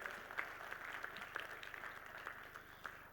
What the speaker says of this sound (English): Can I get some applause for everyone who sent these in?